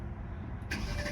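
2021 Mercedes-AMG GLC 63 Coupe twin-turbo V8, 469 horsepower, firing up in the cabin, a sudden deep engine roar catching and swelling to a loud steady idle.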